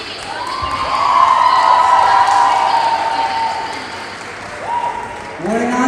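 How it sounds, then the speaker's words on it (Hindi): Audience at a college freshers' party applauding and cheering, a broad wash of clapping and shouts that swells early and holds steady, with a voice rising over the crowd and more calls near the end. "What an answer! तालियां!"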